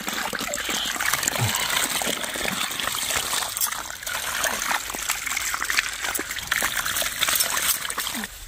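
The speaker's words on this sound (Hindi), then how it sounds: "अभी आए हैं धोने के लिए लक्ष्मी को, देखिए हम धो देंगे।" Water splashes and trickles continuously close by, with bursts of pouring and splattering as a buffalo is washed.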